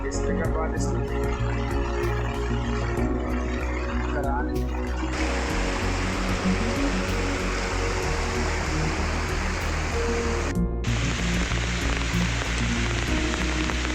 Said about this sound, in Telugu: ఇదిగో చూడు వరదలు భారీ వర్షాలండి